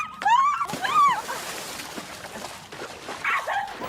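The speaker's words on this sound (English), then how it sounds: "What the hell is up with this dog?" In a comedy movie scene a dog barks and yips in sharp, high rising-and-falling calls near the start, then whimpers more softly amid background movie sound.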